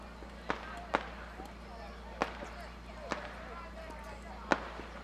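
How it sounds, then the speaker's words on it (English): Fireworks bursting far off during a small-town baseball game, five sharp muffled pops at irregular intervals over a low constant background hum, faint and distant. "Fireworks going off."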